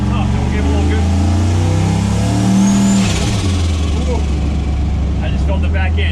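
A turbo LS-swapped C10 squarebody truck accelerates hard on a tight back road, its engine a loud, close, continuous roar that swells and shifts pitch across the run.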